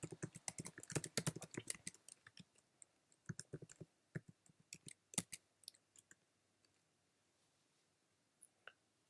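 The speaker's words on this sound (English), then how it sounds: "so I'm just going to type it" Typing on a computer keyboard, with fast clustered keystrokes at the start, then sparser bursts of clicks and isolated taps trailing off, heard close and alone in a quiet room.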